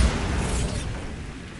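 Bombarda blasting spell from the Hogwarts Legacy video game: a loud, dense explosive burst with heavy low rumble that decays slowly over a second and a half, no voices.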